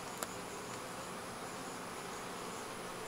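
Bees hum softly around an opened hive frame with crooked comb, a faint steady buzzing drone close by, with one small click near the start and no voices.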